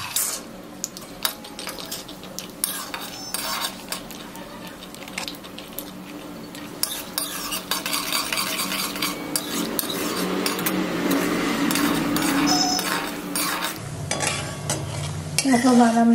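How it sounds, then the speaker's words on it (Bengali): Peanuts frying in hot oil in a home kitchen while chowmein is being made, with a steady sizzle and repeated scraping stirs of a utensil against the pan, close and continuous, growing fuller toward the end. "তেলটা আমার গরম হয়ে গেছে, এবার দেখো আমি বাদামটা ভেজে নিই।"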